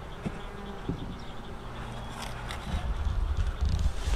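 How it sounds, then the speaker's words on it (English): A small swarm of honey bees buzzes faintly inside a swarm trap, a soft steady hum close by with light rustling and handling noises, growing a little louder near the end. "Yep, that right there is a small swarm of bees."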